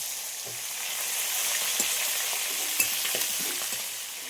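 Fish fries in hot oil over a clay stove, a steady close sizzle with a few sharp pops and utensil taps and no speech.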